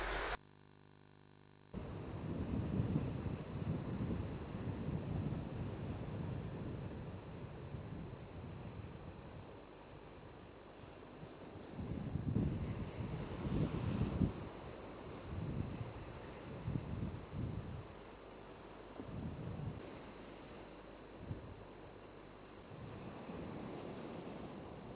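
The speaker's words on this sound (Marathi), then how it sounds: "वेगवान वाऱ्यामुळे समुद्र मोठ्या प्रमाणात खवळला असल्याचे दिसून येत आहे" Strong wind sweeping over a rough, churning sea on the Ratnagiri coast at the start of the monsoon, a steady broadband roar with surging swells of wave noise and gusts buffeting the microphone.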